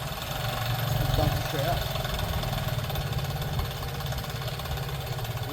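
A Piaggio Liberty scooter engine idles steadily with a low, even drone and faint rhythmic ticking from loose valves, running continuously close by while someone speaks briefly over it.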